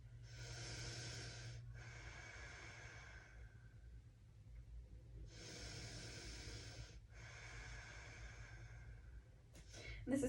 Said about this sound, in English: Keep breathing here. Breathe into the back of your lungs and back of your heart.